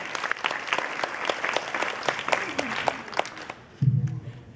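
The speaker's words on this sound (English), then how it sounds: "How about a big round of applause?" An audience at a convention panel in San Francisco claps in a lively burst of sharp, overlapping handclaps that fades near the end, followed by a voice speaking close up.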